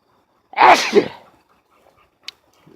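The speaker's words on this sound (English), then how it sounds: "I gotta sneeze" A single loud sneeze up close, with a sharp burst and trailing exhale, followed by quiet and a faint click.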